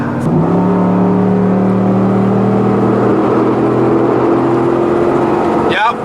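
A Ford F-150 pickup with a 5.0L V8 engine revving hard on a dyno, a loud, sustained droning roar that steadily rises in pitch before cutting off near the end.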